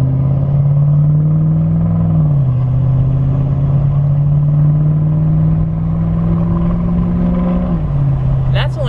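Chevrolet L5P Duramax diesel pickup with an S369 SXE turbocharger pulls away from a stop at about half throttle, a steady loud engine drone that dips as the transmission shifts, with talk running over it throughout.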